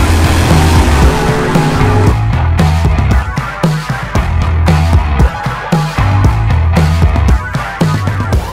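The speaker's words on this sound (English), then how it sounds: "Dragsters getting ready to roll out next for their next round." Dragsters at a drag race rumble and crackle close by as they roll out, their loud engines giving choppy, rhythmic revs and blips throughout.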